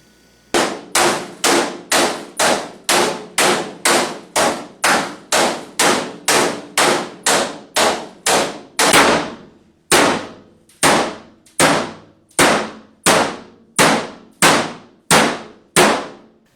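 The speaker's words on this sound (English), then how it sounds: "you can usually take a big hammer and make it fit." A big hammer pounds a thin stainless steel sheet flat for a kitchen table top. About thirty loud, ringing metallic clangs land at a steady, even rhythm, each one decaying briefly, with no talking.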